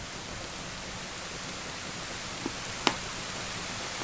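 Rain in the video game Zelda: Ocarina of Time, a dense, steady hiss of falling rain with a couple of faint brief clicks, no voices.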